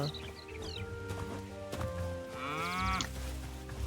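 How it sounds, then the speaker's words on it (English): Cattle in the video game Hytale moo in a few drawn-out calls, the loudest rising near the end, over a steady game soundscape with light background music. "we got cows here"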